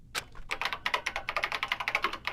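Keyboard typing as a video game sound effect: a rapid, even run of light clicking keystrokes, close and clear, continuing steadily for a couple of seconds with no voices.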